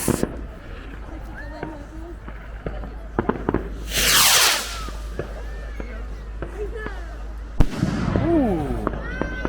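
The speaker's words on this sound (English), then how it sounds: "Fireworks." Fireworks burst on Bonfire Night outdoors: a loud crackling, hissing blast, then a sharp bang later, with people chatting between the explosions.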